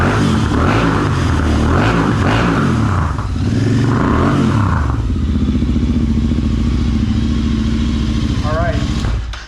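Royal Enfield 650 twin, a Continental GT fitted with Zard slip-on exhausts, revving loud and close, the burbling roar swelling and dropping, with voices talking over it.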